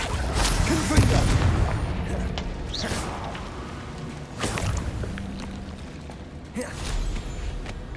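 Repeated Confringo fire spell casts in Hogwarts Legacy land as a series of sharp booming impacts spaced a second or two apart over a busy game soundscape with creaks and rumbles.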